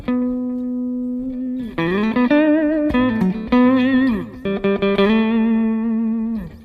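Electric guitar through a Line 6 POD Go multi-head delay, played as bending sustained notes and short phrases with repeats smearing behind each, loud with no talking.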